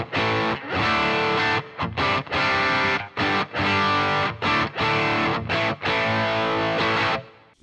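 Distorted electric guitar recorded through a Boss GT-1000 with Lexicon reverb, playing loud, chopped chords and riffs in short bursts with brief gaps, the reverb tails filling the breaks.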